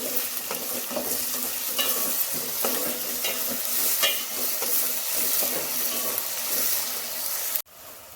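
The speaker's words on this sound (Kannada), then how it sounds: "ಈರುಳ್ಳಿನ ಹಾಕೊಂಡ್ಮೇಲೆ ಎಣ್ಣೆಯಲ್ಲಿ ಈರುಳ್ಳಿನ ಒಂದು ಸ್ವಲ್ಪ ಫ್ರೈ ಮಾಡ್ಕೊಳ್ಳಿ" Onions frying in oil in a pan, a close, steady sizzle with repeated stirring scrapes and clinks, cutting off abruptly just before the end.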